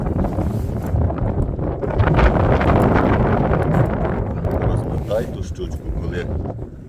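Strong wind buffets the microphone in loud gusts on a frozen lake while ice fishing, with rushing noise and scattered voices underneath.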